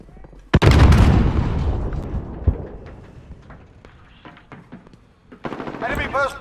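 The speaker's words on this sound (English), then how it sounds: "Enemy sentry gun active." Automatic sentry gun firing in Call of Duty Modern Warfare: a loud opening burst of gunfire with heavy booms that tails into scattered shots, then a second rapid burst near the end, with a voice speaking over the fire.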